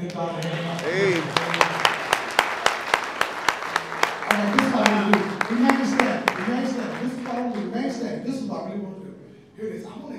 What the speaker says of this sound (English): clap your hands and give God a hand